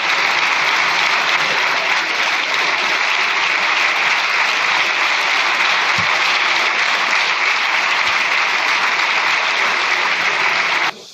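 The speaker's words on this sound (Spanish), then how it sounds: "el aplauso que ha recibido de los distintos grupos parlamentarios" Parliamentary groups in the Spanish Congress of Deputies give a farewell ovation, a dense, steady wall of applause sustained loudly for about eleven seconds before cutting off abruptly.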